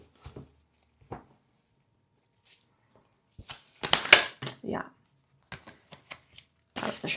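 A deck of playing cards being shuffled in short, scattered riffling bursts separated by quiet gaps, with a denser flurry in the middle and near the end, recorded up close indoors.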